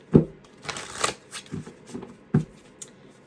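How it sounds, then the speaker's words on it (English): Tarot cards being shuffled by hand during a reading, close up: a series of soft papery riffles and taps in irregular bursts, with no talking over them. "Nope, I gotta shuffle again."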